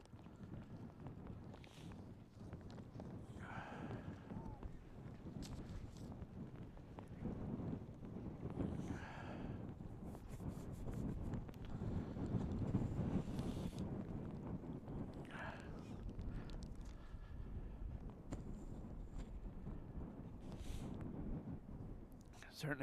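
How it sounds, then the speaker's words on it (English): Strong breeze buffeting a camera microphone outdoors at a morning youth football match, low gusty rumbles swelling and fading throughout while faint voices carry in the background. "Our cameraman's really struggling there with the breeze, trying to keep camera and everything held down."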